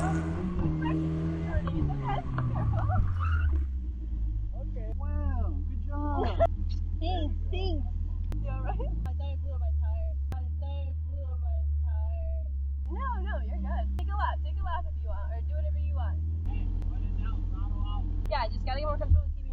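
A car drifting under clutch kick and throttle rumbles with a deep, sustained engine drone, with revs rising and falling, while someone talks over it nearly the whole time.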